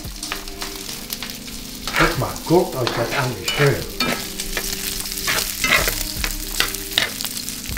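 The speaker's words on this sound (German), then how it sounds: "Seht ihr, wie das schön anbrutzelt hier?" Food sizzles in a pan while it is stirred for spaghetti carbonara. The sizzle swells with scraping bursts of stirring, and someone speaks briefly over the frying.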